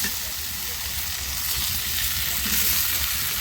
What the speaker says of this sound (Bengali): আলুটার সঙ্গে ইঁচুড়ের সঙ্গে একটু কষিয়ে নেবে